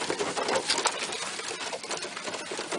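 Sick pigeons, mostly blue birds, fill a loft with steady dense chatter, soft cooing and bursts of wing flapping that carry on without a break from start to finish.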